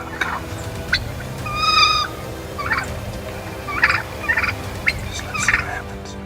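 Wild turkeys gobbling in the open, with several rattling calls, one long loud gobble near the start and shorter bursts following at irregular intervals over steady background noise.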